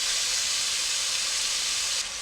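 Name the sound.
beef steak strips browning in a hot pan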